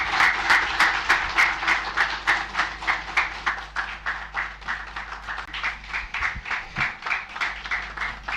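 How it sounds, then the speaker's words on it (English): Sustained audience applause at a presidential inauguration ceremony for a twelve-member advisory group, a steady dense clapping that rises and falls in waves for several seconds, heard on its own with no talking. "Shall we please give Her Excellency another big round of applause?"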